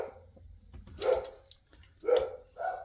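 A dog barks three times, separated by short pauses, fairly close and moderately loud over a faint low hum.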